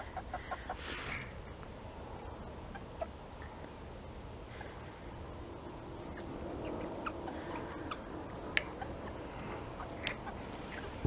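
An ornamental chicken flock in a front yard clucks softly and sporadically, a few brief louder calls and faint ticking over a low, steady outdoor background, with no talking.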